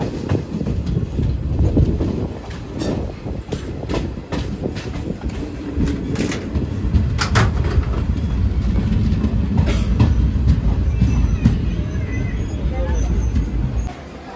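Chennai Express passenger train standing at or pulling through Nalgonda station, its steady rumble and rail clatter loud and continuous, with a few sharp clanks, while a person talks over it.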